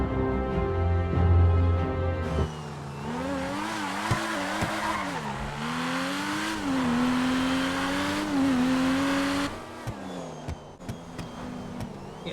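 A sports car in GTA 5 revs and accelerates, its engine note rising and falling in pitch over sustained loud road noise, with a short burst of tire squeal before it eases off near the end.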